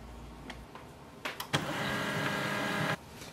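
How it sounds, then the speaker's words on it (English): An HP LaserJet M140we printer restarting: a few faint clicks, then a steady whirring mechanical run lasting about a second and a half before stopping abruptly, close and fairly loud. "The printer will restart."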